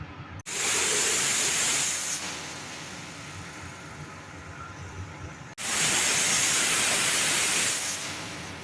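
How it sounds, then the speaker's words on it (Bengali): Pressure cooker cooking chana dal lets out two loud, sustained hissing steam bursts, the first running about five seconds and the second starting after a brief break, with no talking. "একটি প্রেসার কুকারটা বন্ধ করে দিয়ে সেদ্ধ হওয়ার জন্য"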